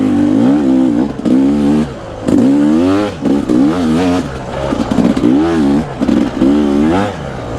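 A Yamaha YZ250 two-stroke dirt bike being ridden through its break-in, loud and close, rising and falling in repeated rev sweeps as the throttle is worked up and down with brief dips between pulls.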